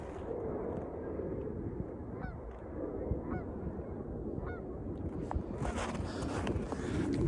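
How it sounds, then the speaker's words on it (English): Geese honking in the distance, a few brief calls scattered over steady wind and low rumbling noise during an Illinois January outing. "Geese."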